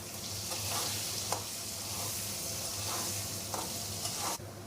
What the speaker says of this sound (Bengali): আলুটা মাঝের মধ্যে একটু নেড়ে চেড়ে দেবো, না হলে একদিকে ভাজা হবে আর একদিকে ভাজা হবে না।